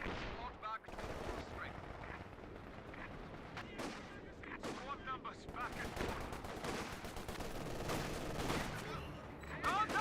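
Small-arms rounds in Company of Heroes 2 rake a Kübelwagen in a dense, continuous barrage of overlapping shots and impacts, loud and busy with no pauses.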